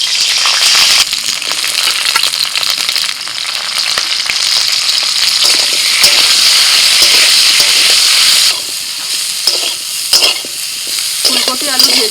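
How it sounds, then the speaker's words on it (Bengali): Cauliflower and potato fry in hot mustard oil with a loud, steady, crackling sizzle, broken by stirring scrapes and a brief dip before the spitting picks up again toward the end. "সরষের তেল গরম হয়ে গেছে, ফুলকপি আর আলু একটু ভেজে নেব।"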